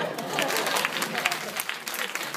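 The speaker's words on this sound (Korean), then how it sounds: "박수 주세요" Brief applause from a high school audience at a student electronics presentation, with scattered claps from a modest crowd and some voices mixed in.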